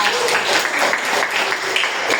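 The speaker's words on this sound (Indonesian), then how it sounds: "tepuk tangan dong" Students in a classroom clap briefly at a teacher's prompt, a short burst of scattered hand claps from a small group, fairly close and steady.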